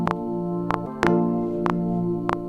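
Sustained synth key chords through phaser, delay and reverb give a swirling, spacious wash and echoing tails, punctuated by sharp percussive clicks at a steady pulse.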